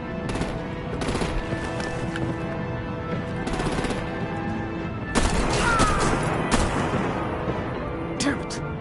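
Sustained automatic gunfire with artillery blasts in a Batman: The Enemy Within game battle, rapid bursts rattling continuously, growing heavier midway, with dialogue spoken over the combat.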